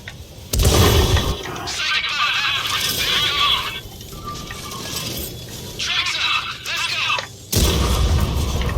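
Booming cannon shots from an M7 Priest self-propelled artillery gun in World of Tanks, two loud broadband blasts at start and end framing a stretch of rumbling battlefield noise, with a voice talking in between.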